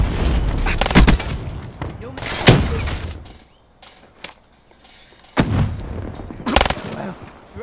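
Pistol gunshots in Call of Duty Black Ops 3, played in a pistol-only challenge on hard mode: several sharp, loud shots in short clusters, with quieter game noise in the gaps.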